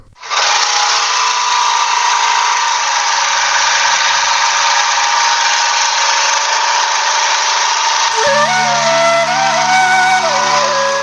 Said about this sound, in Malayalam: സ്കൂട്ടറിൽ പോകാൻ എന്തു രസമാണ്